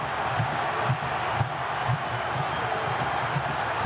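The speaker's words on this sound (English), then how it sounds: "Crowd starts to roar." Stadium crowd at a 2011 Super Rugby semi-final between the Reds and Blues, a steady, dense roar of many voices filling the space, with faint rhythmic low thumps underneath and no clear talk.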